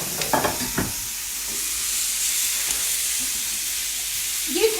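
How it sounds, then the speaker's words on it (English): Chopped tomatoes drop into a pan of frying spices for a chickpea curry, with a couple of brief clunks at the start giving way to a steady soft sizzle and hiss, and a faint scrape at the end. "And now I'm going to put in my tomatoes."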